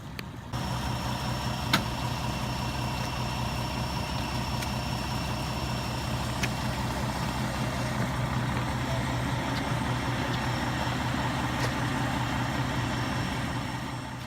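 A fire engine idles steadily with a deep, constant rumble and hum, continuous throughout with a few faint clicks and tones above it.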